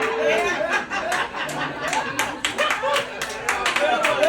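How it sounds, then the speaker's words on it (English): Scattered audience clapping at a comedy show, uneven claps mixed with chatter and some chuckling from the crowd. "Hey, thank you for the clapping."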